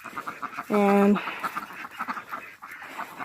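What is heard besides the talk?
wild ducks quacking on Christmas morning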